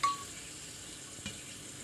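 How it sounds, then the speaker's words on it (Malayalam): Coconut fries in oil in a pan for sambar, giving a soft, steady sizzle with a faint clink partway through. "ഇവിടെ കുറച്ച് നാളികേരം വറുത്തെടുക്കാം"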